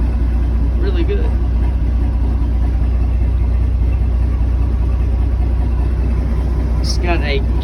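Diesel engine of a Cat 939C track loader idling steadily at close range, a continuous low rumble running through the whole stretch, with faint short sounds rising briefly over it.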